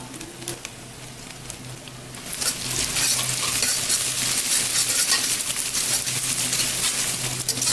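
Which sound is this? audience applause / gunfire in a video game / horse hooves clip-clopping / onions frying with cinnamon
onions frying with cinnamon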